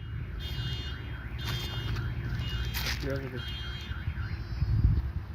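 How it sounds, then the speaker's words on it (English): A car alarm blares with a steady warbling, repeating siren pattern that runs the whole time, fairly loud, while people talk over it. "who tripped the alarm?"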